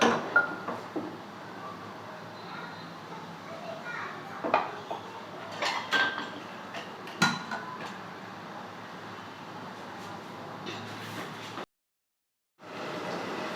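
Spoon scraping and clanking against a pan while tomato paste fries in oil for a mutton gravy, with intermittent knocks over a steady low frying hiss and a brief gap near the end.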